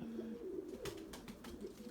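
A white tumbler pigeon flies overhead, its soft cooing tones running steadily beneath brief fluttering bursts of wingbeats, heard at moderate distance without any talk.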